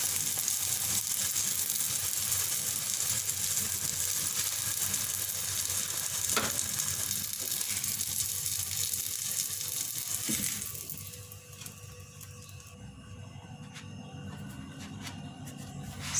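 Chicken patties fry in hot oil, giving a steady loud sizzle that holds for most of the stretch, then drops abruptly to a quieter, thinner crackle near the end.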